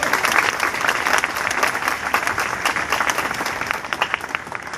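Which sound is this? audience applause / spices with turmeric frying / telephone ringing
audience applause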